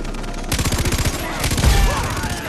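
Rapid bursts of automatic gunfire from the video game Far Cry 3, a steady rattling volley followed by a louder, heavier stretch of shots, loud and close in the game mix.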